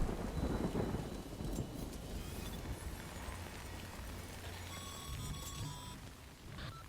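Steady heavy rain pours in the Death Stranding video game, with a low rumble of thunder rolling under the downpour at the start and faint electronic tones rising above it near the end.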